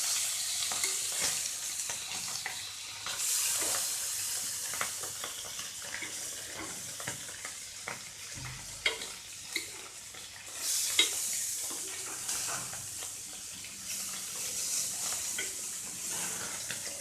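Mathi sardines fry in oil in a pan, giving a bright, sustained sizzle with bursts of spattering and occasional scraping as the fish are turned, and no voices.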